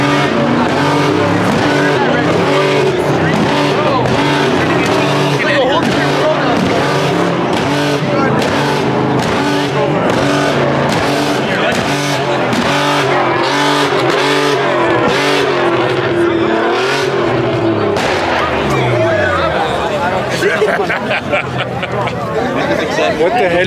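Several car engines, among them a Dodge Viper, rev loudly and continuously, their harsh roars rising and falling in overlapping bursts over a busy crowd chatter, with tire squeal-like rasps near the end.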